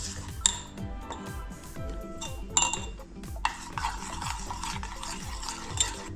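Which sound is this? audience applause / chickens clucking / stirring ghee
stirring ghee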